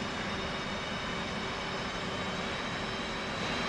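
An F/A-18C Hornet's jet engine spools up in the DCS flight simulator, a loud, steady broadband roar and whine holding constant throughout with no speech.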